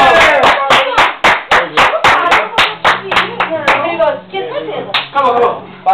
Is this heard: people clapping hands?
yes